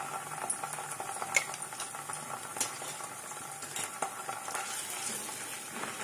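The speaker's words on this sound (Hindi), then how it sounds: "और अब इस टाइम पर इसमें मैं ये जो जिंजर गार्लिक पेस्ट है ये ऐड कर दूंगी।" Ginger garlic paste fries with browned onions in a pan, a soft, steady sizzle with light crackles and occasional faint stirring taps.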